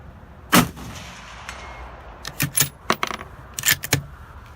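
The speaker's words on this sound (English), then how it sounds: "I'll give you a couple closer ups while I'm shooting here" Rifle shots fired from a gun on a UTG 360 bipod outdoors, one sharp report followed by a quiet gap and then a rapid cluster of several cracks and clanks near the end.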